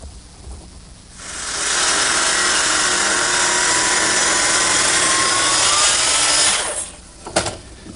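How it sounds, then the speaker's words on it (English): Power saw cutting a knife slot into a wooden butcher block, a sustained loud whining cut lasting about five seconds between quieter stretches, ending with a brief clatter. "it's a lot easier to cut the knife slot out now than it is later"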